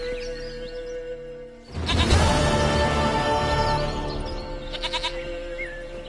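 A goat in the video game The Witcher 3 bleats loudly and close for several seconds, a long wavering cry over faint ambient game music.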